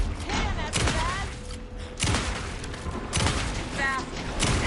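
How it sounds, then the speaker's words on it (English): Rapid bursts of video game gunfire erupt in several loud clusters, spaced across the clip, with voices and game sounds mixed between the volleys. "Anderson, pin him down with gunfire for me to get the light on him."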